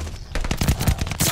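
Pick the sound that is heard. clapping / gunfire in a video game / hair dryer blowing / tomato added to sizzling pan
gunfire in a video game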